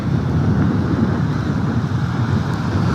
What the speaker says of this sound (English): Yeah, the waves are not really kicking up very good.